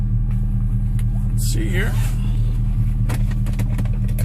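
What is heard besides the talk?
2000 Chevrolet Silverado 1500 engine idling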